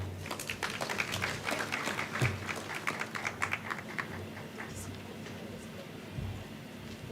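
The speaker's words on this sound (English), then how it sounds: "Once again, let's clap for her." Audience applause in a hall at an East African Community trade fair for small businesses, a dense sustained patter of many hands clapping at steady loudness for several seconds, with a faint voice underneath.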